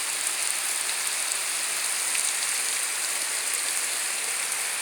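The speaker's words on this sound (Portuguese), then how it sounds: "chuva no sertão do Piauí." Rain falls in the Piauí backcountry, a dense steady hiss of drops on surfaces, even and unbroken, with no talk over it.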